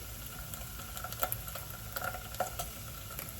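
Thick tomato paste being stirred into a sizzling pan of food, with a soft continuous frying hiss and a few light scrapes and clicks of the spoon against the pan.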